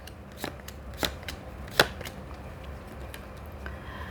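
Tarot cards are shuffled by hand during a reading: a soft, steady papery rustle with a few crisp snaps, close and fairly quiet, with no voice over it.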